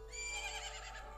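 The horse Epona whinnies in the video game Zelda: Majora's Mask 3D, a single bright, wavering neigh over a steady game background hum, clear and alone.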